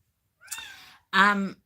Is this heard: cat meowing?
yes